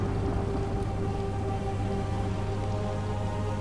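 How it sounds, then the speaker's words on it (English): Rain in Hitman Absolution: steady, even downpour hissing continuously at moderate loudness, with a faint low hum beneath and no voices. "Look at this rain."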